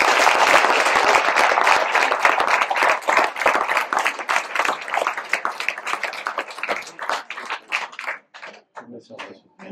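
A hall crowd at a municipal ceremony in Ruffiac applauds a world champion. Loud, dense clapping gradually thins into scattered individual claps over about ten seconds.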